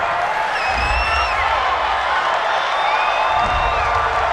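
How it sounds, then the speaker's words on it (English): Home crowd cheering after a big third-down penalty call in a Madden NFL 20 game between the Tennessee Titans and Kansas City Chiefs on Xbox One, a steady stadium roar with swells of cheering and whistles throughout. "This home crowd, they're happy with that call."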